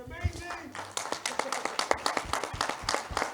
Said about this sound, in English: Round of applause to them, man.